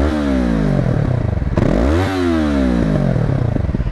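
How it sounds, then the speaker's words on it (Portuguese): Yamaha MT-03 motorcycle (2023 model) on its stock exhaust, revving hard nearby: the engine note climbs in rising sweeps and drops back, with crackling pops on deceleration and no talk. "eu queria só encostar para vos mostrar melhor o barulhozinho que este escape faz"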